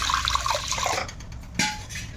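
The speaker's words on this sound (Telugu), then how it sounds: "ఇవి మూడు కూడా శుభ్రంగా టూ టైమ్స్ కడిగేసుకోండి ఇదిగోండి ఇలాగ శుభ్రంగా కడిగేసుకోవాలి" Water sloshes and splashes briefly as lentils are rinsed, then a short splash and trickle follow, close by.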